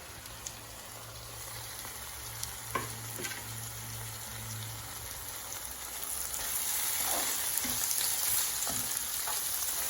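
Ginger garlic paste, green chilies and curry leaves fry in a pan for an avocado chicken gravy, giving a steady close sizzle with scattered spoon clinks and stirring scrapes that swell louder toward the end; no one speaks.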